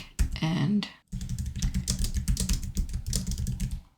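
Typing on a computer keyboard, a steady run of quick key clatter lasting several seconds close to the mic, with a short pause near the start.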